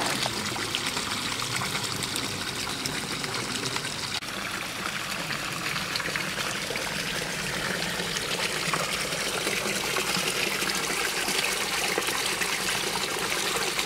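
Garden pond water pouring steadily out of a circulation pipe, with floating plant rafts nearby: a constant, close trickling and splashing wash that continues unchanged throughout.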